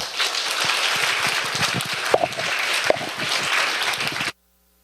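An audience at a church fasting prayer meeting applauds a university economics professor after his lecture: a dense, steady burst of clapping lasting about four seconds that stops abruptly.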